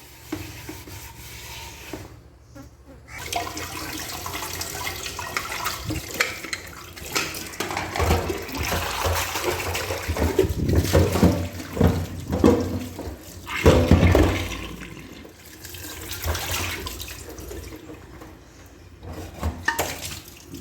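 An old pressure cooker being washed under a running tap after scrubbing with a steel brush, with water splashing and metal rubbing and clanking close by in uneven bursts, no talking.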